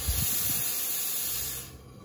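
Steam wand on a Bellman CX25 stovetop espresso maker purging steam, with a loud close hiss held steady for about a second and a half before it dies away.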